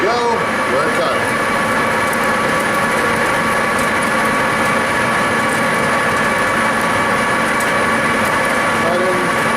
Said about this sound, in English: Close, engage the half nut, and here we go, we're cutting.